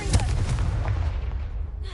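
The Confringo blasting spell in Hogwarts Legacy lets off a low, muffled burst with a rumbling tail that fades over two seconds, heard at moderate volume with no speech.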